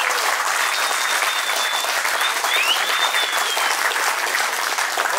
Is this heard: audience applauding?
yes